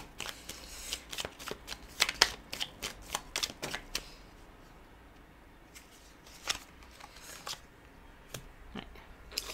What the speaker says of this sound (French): il y a trop de cartes qui sont tombées.